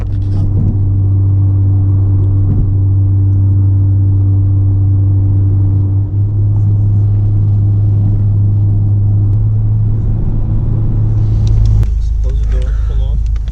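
Cabin drone of a 2017 Honda Civic Type R cruising on a highway road trip, a steady loud low rumble with a shift in tone near the end, while people talk over it.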